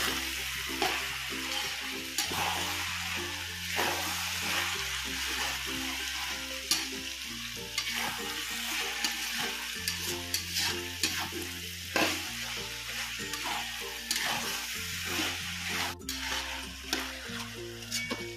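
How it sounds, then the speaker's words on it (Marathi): Vegetable fried rice with sauces being stirred and tossed in a hot pan, a continuous sizzle broken by repeated scraping and clattering strokes of the spatula, close and without talk. "चला आता आपण सर्व सॉस टाकून झालेला आहे. आता हे सर्व आपण मिक्स करून घेऊ."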